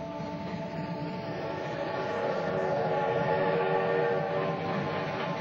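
A continuous low rumble of a steam train arriving at Washington's Union Station, with steady rolling and mechanical noise, sustained throughout and fairly loud, with no voices.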